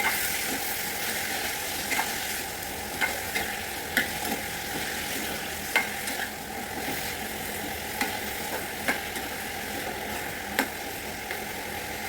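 Black brinjals fry with curry leaves in a pan, a steady loud sizzle broken by periodic scraping knocks of a spoon stirring, close up.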